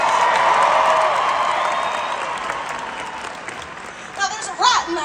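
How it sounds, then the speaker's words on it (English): A Las Vegas concert crowd applauds and cheers in a loud, dense wash that slowly fades, and a voice speaks briefly near the end. "Everybody give him a round of applause."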